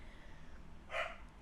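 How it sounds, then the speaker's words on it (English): A single short dog bark rises out of a quiet indoor room hum, close and moderately loud, with nothing else around it. "I'm trying to talk over Gus barking."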